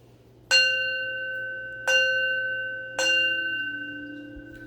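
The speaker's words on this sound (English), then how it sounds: "I'm gonna ring my bell" A hand bell is rung three times, each strike a bright, clear ring that lingers and fades, spaced about a second apart and close up.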